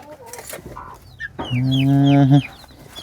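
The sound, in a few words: chickens clucking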